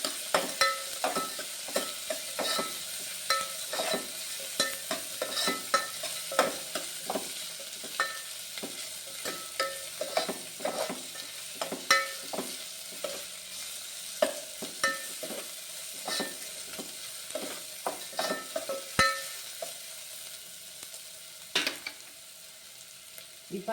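Ginger and garlic fry in a pan for an eggplant thokku, a steady close sizzle broken by repeated scraping clicks of a spoon stirring through the oil.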